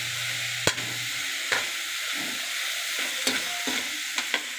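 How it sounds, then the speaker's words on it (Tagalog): Ingredients for pansit, among them ground meat, pork belly, snow peas and cabbage, sizzle steadily in a hot pan. A few sharp scrapes and clanks of stirring break in now and then, and no one speaks. "Ayan, nagigisa na ako."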